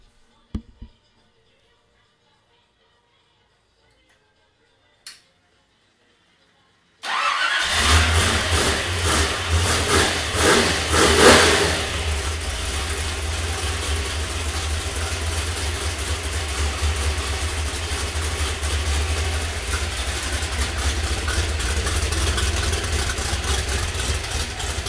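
A 1969 Ford Boss 302 engine on a stand with a standard shift flywheel fires up after a few faint clicks, then runs loud and close with lumpy, popping idle and brief revs.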